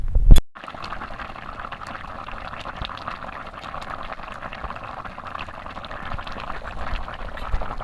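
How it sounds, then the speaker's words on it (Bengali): A pot of Bengali vegetable curry with river prawns and potatoes boils steadily, with a continuous bubbling and churning hiss after a short knock at the start. "ঝোল একদম পুরো টকবক করে ফুটছে"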